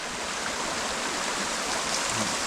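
A waterfall near Kadıköy pours in a steady, dense rush of flowing water, constant and close throughout, with no voices.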